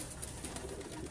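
Breeder pigeons give a soft, brief coo, faint and low against a quiet background.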